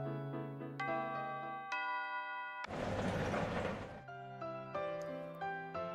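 A school bell chimes in a series of ringing tones in the visual novel Nurse Love Addiction, interrupted by a brief burst of noise before the tones resume, all alongside soft game music.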